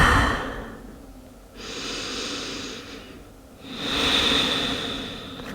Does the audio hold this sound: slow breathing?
yes